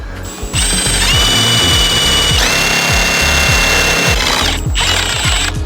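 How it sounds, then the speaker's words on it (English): A power drill drives screws into an aftermarket aero part on an Audi B9 S4, whirring loudly and steadily in several bursts, with motor pitch rising and falling as each screw spins, catches and bites. "when you're screwing this in, it's gonna spin, it's gonna catch, and then slowly pull it up"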